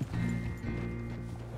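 Horse hooves clip-clop steadily in Red Dead Redemption 2, a close, even trotting rhythm over a low musical drone.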